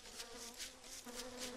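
Bees buzz in the survival video game Don't Starve, a soft, wavering drone that swells and fades in repeated pulses, fairly quiet and with no talking.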